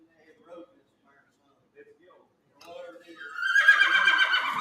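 Horse whinnying at a horse sale auction in Maryville, Missouri: a loud, drawn-out neigh rises near the end, following quiet stretches of faint, indistinct voices.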